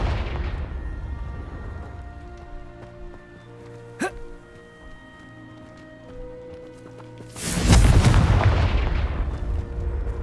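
A Confringo spell explodes in Hogwarts Legacy gameplay, a heavy booming blast near the end that roars and decays over a few seconds, preceded by a sharp crack and low game ambience.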